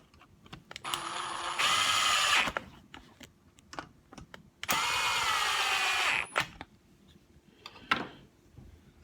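Tightening screws on the primer bulb of a whipper snipper, heard as two sustained bursts of buzzing, whirring power-driver noise with short mechanical clicks and taps in between, close and fairly loud.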